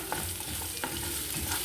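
Chopped onion frying in oil for a chicken saaru curry, a continuous close sizzle with soft stirring scrapes and small crackles, no voices.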